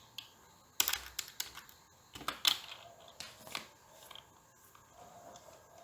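Light typing on a computer keyboard, with scattered soft key clicks and taps in an irregular rhythm, close and quiet against a low background hum.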